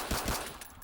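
A video game pistol, an M9 Beretta, fires two quick sharp shots in close succession, followed by a brief fading tail.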